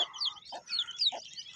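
A hen with chicks clucking close by, two short low clucks about half a second apart mixed with higher peeping chirps from the young birds, with no talk.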